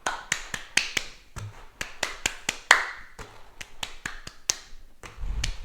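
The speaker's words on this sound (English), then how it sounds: "So I'm clapping in between my taps of the ball, or balloon should I say." Sharp hand claps interleaved with light taps on a balloon, a quick irregular run of close, crisp hits separated by brief pauses, with no talking.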